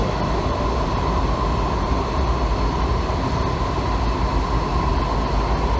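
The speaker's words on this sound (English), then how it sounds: "Unique rail grind noise." A loud, steady metallic grinding of subway train wheels on rails, continuous and close, with a rumbling undertone throughout.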